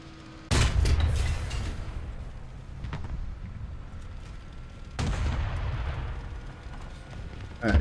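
A tank cannon in War Thunder fires with a heavy, booming blast, followed by rumbling battlefield noise. A second deep shot lands a few seconds later, and a third begins right at the end.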